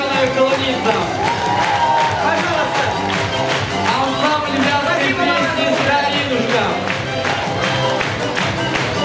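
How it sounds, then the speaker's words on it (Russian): A concert audience gives loud, sustained applause and cheering for a singer and a folk song-and-dance ensemble. The dense clapping fills the whole stretch evenly, with other sound from the hall mixed in. "Аплодисменты!"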